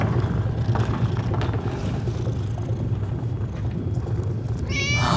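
A cat on a narrow boat meows close by near the end, over a steady low hum of pumps and wind buffeting the microphone, with no one talking.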